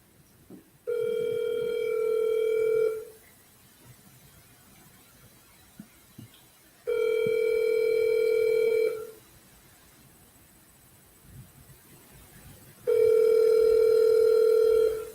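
An outgoing phone call rings back in three long, even tones separated by pauses of silence, clear and steady, with no talking.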